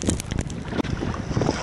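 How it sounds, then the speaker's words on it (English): Wind gusts over a small fishing boat at sea, a short burst of rushing, buffeting noise close to the microphone, with light water and hull sounds beneath. "Whew, windy."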